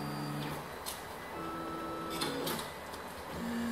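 A 3D printer drawing an abstract portrait hums faintly, with whining motor tones that step up and down in pitch and occasional soft ticks.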